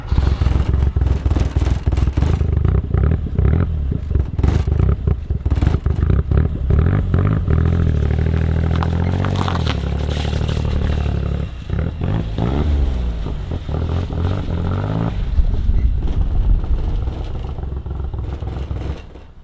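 A Suzuki Cappuccino's small engine running close by, a loud continuous rumble that rises and falls in pitch as it is revved, with clattering mechanical noise throughout and no clear talk.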